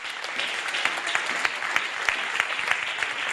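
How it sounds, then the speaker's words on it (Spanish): Church congregation applauds during a Spanish-language sermon, a sustained crackling roar of many hands with a few sharper individual claps standing out, moderately loud and continuous with no speech on top. "Den un aplauso al Señor"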